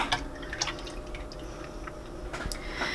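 Heavy cream poured into a pot on a stovetop for homemade cream cheese, heard as a soft liquid trickle with a few drips and splashes, close and fairly quiet.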